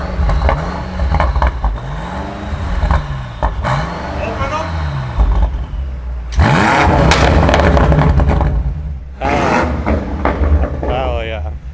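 A BMW M8 Competition with secondary downpipes revs repeatedly, exhaust valves closed, rising and falling in pitch, with a deep throaty exhaust roar and bursts of higher revving; voices occasionally talk underneath.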